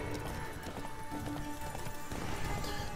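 Hooves clip-clop rapidly and evenly as a horse gallops in The Witcher 3 video game, a steady, fairly quiet rhythm over a dense background wash.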